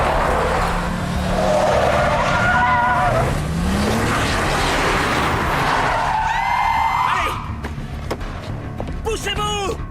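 Car in an action film accelerating hard, its engine roaring as tires squeal and skid in several sharp bursts, loud and close, with brief shouting voices toward the end.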